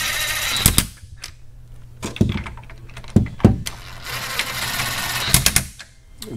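Top 16 mm brace bolts being snugged down with a ratchet or tool on a 2016 vehicle during a brace install, giving a few sharp clicks and clanks in bursts over a steady background hum, close by.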